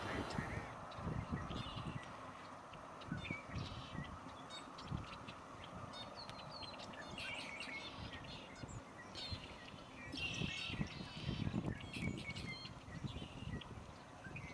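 Ducks call in a winter wetland in the Sacramento Valley, with scattered high whistles and honks at a distance, while someone speaks steadily over them.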